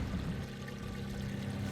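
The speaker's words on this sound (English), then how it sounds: "It's water top-up time." Water pours steadily into a boat's water tank at a water point, a continuous rushing stream with a low rumbling fill, heard close and without pause.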